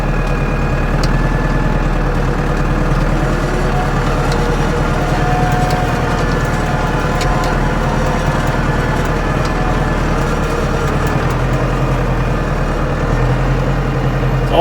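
A tractor with no brakes idles and runs steadily close by, a loud continuous low engine drone with a constant mechanical hum throughout, no voices.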